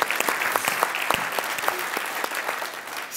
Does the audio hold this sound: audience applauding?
yes